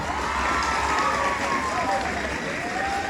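An audience at an Islamic jurisprudence demonstration claps and cheers in a brief, busy burst, with voices and children's shouts mixed into the steady applause.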